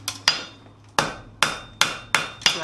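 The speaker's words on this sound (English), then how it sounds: "give it a couple good taps right through the backside to straighten out any buckling you had" A hammer taps a steel drift through a steel workpiece to straighten buckling, landing about seven sharp metallic strikes in an uneven rhythm, close and clear with no talk.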